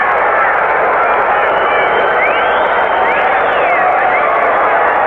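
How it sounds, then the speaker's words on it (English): Dense, steady roar of a large football stadium crowd at a 1984 USFL divisional playoff game between the Wranglers and Gamblers, a loud continuous wash of cheering and babble with no break, whistles rising briefly above it. "Listen to the crowd."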